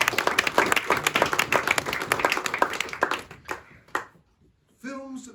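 An audience at a local history group's Christmas event claps steadily for about three seconds, the applause thinning into a few scattered claps before a voice begins speaking.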